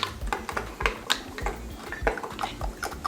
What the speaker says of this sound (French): Ensuite, je touille un petit peu.